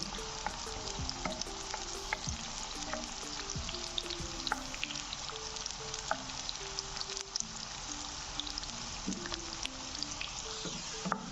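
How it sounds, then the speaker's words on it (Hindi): Onions frying in a pan until brown, a steady dense sizzle and crackle with scattered pops, continuous and close, with no talking. "प्याज को हमें अच्छी तरह ब्राउन करना है।"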